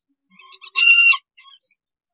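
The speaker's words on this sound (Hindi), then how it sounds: "ये देखो ये मुर्गी है" Hen at a bird farm in Mumbai giving a short run of soft clucks and one louder, sustained squawking call in the middle, fairly close and alone without talk.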